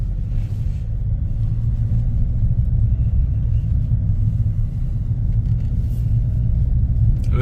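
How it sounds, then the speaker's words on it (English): A Ford Kuga with an engine malfunction warning fault on a test drive, heard as a steady low rumbling drone of engine and road noise from inside the car, continuous and fairly loud with no talking. "We'll take her on a quick test drive, make sure all the dials work, etc."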